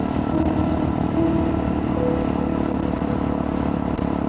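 A motorcycle engine runs at a steady drone while riding on the road, close and constant, with light mechanical clatter and no voices.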